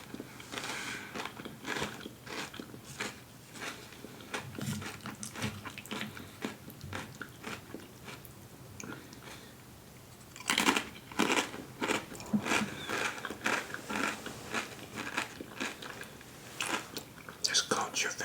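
Crunchy, salty tortilla chips dipped in guacamole are bitten and chewed close to the microphone in repeated crisp crunches and wet munching, with quiet speech heard between bites.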